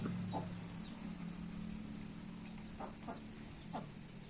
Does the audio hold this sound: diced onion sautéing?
no